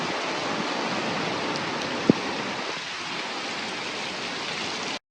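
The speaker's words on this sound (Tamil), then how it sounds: "இப்போ நீங்கள் பார்த்த வீடியோ கொஞ்சம் மாதம் முன்னாடி பயங்கரமாக மழை பெஞ்சது எங்கள் ஊரில் அப்போ எடுத்தது இதுதான்" Heavy rain pours down steadily in a town, a dense, even hiss of falling water that holds for several seconds with one sharp click midway, then cuts off abruptly.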